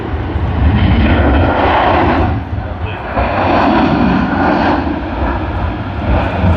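Airliner jet engines rumble loudly and close at Sydney Airport, a broad roar that swells and dips in waves, with people talking over it.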